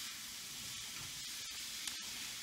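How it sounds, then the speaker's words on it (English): Hamburgers fry in a pan with a steady, dense sizzle that fills the short stretch, plus a couple of small clicks near the end. "frying some hamburgers. It smells so good."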